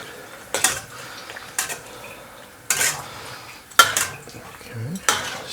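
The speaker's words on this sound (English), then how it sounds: "Stir that through." A spoon stirs stock with a couple of stock cubes in a cooking pot, making five separate scraping clinks against the metal about a second apart, close and fairly clear, with quiet gaps between.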